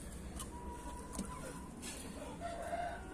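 A hen squawks and clucks in a backyard poultry pen, a few brief, fairly faint cries over quiet background.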